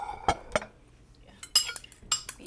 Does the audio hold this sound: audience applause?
no